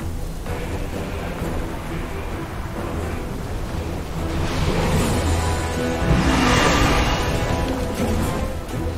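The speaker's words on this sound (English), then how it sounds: "Storm." Thunderstorm ambience in the Dragon Isles quest of a video game: a steady wash of rain with low rumbling that swells louder past the midpoint, continuous throughout with no speech.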